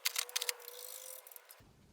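Ratchet undoing the subframe bolts on an Aprilia RS250 motorcycle, a quick run of close, light mechanical clicks followed by faint handling noise, fairly quiet.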